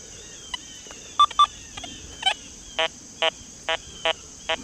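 A Deus 2 metal detector emits a series of short electronic iron-tone beeps, a few scattered at first, then about five evenly spaced tones over a faint hiss.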